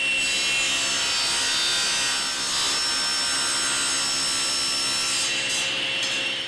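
A saw cuts thin strips off a wooden board, giving a steady, close rasping sound that runs nearly unbroken with no talking.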